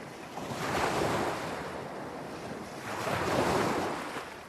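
Sea waves break on the shore in two slow swells about three seconds apart, each rising into a soft hiss of surf before fading, with light wind buffeting the microphone.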